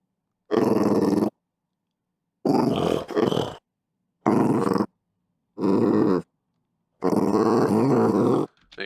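A French bulldog growls in five separate low, rumbling bursts with short silences between, close and fairly loud.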